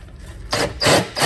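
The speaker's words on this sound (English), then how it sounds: "Use one of these step drills here." A step drill bites into an aluminum pop rivet in two quick, harsh, grinding bursts, close up and with no talking.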